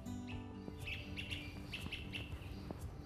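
Birds calling in Central Park: a series of short, high chirps in quick bursts, fairly faint against a low steady background hum.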